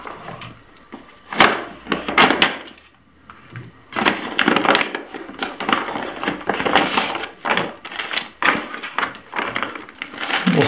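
A thick plastic US military MRE ration pouch, Menu No. 17, is worked open up close with loud crackling and crinkling in irregular bursts, separated by brief pauses. No one speaks.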